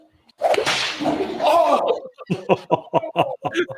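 A whip lashes in a loud, noisy swishing burst lasting over a second, followed by several short, bursty sounds like laughter or snickering in a group setting.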